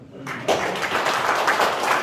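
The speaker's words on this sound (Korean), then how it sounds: "박수 한번 칩시다" An audience at a lecture gives a short burst of applause, a dense wash of clapping that starts abruptly and holds steady at moderate loudness.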